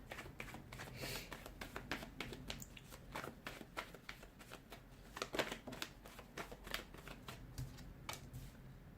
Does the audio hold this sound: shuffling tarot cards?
yes